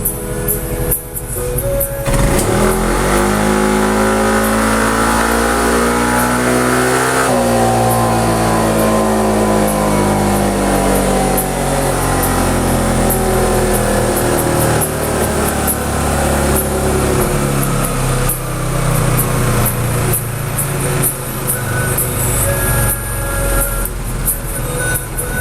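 A Yamaha NMAX scooter engine on a dyno revs loud and close, pitch climbing steadily as it is held on the throttle, then easing back into a rough drone.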